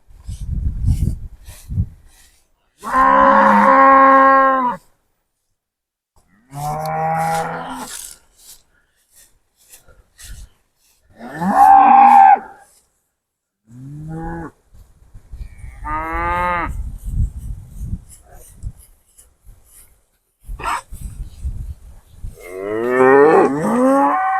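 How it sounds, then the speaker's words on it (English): Several loud, drawn-out cow moos come one after another with short pauses between them during a pasture rotation on a ranch, close by and standing clear of any talk. "let's move some cows here."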